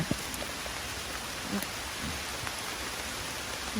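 Steady rain falls outdoors while wild asparagus shoots are being gathered, a constant dense patter of drops with a few louder close hits, no voices.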